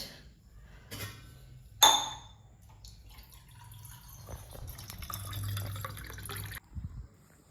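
Water trickles and pours into a container, with a few dripping splashes and a brief clink, fairly close and quiet with no talking.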